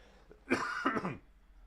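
Two rough, throaty coughs in quick succession from someone recovering from COVID, close and moderately loud, then quiet.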